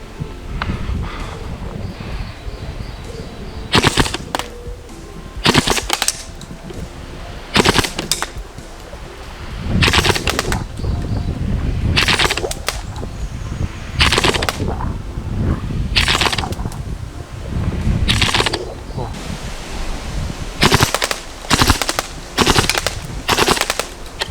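Northeast FAMAS F1 gas blowback airsoft rifle fires repeated short three-round bursts outdoors, each a sharp clattering cluster separated by brief pauses, loud and close with some wind noise.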